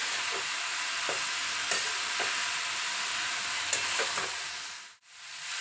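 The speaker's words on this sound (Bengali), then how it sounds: "এইভাবে লো টু মিডিয়াম আঁচে নেড়ে চেড়ে অন্তত 2 থেকে 3 মিনিট খুব ভালো করে ভেজে নিতে হবে।" Steady frying sizzle from oil on low to medium heat, with soft scraping stirs every second or so; the hiss stays even and close, then briefly cuts out near the end.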